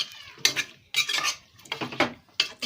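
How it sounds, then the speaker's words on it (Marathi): A spoon stirs salted vegetables in a cooking pot for a vegetable pulao, four or five distinct scraping, clinking strokes against metal in an uneven rhythm, close and moderately quiet, with no talking. "मीठ टाकते भाज्यांमध्ये, आणि असं मिक्स करून घेते"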